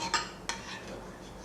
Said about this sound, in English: So just give that a little stir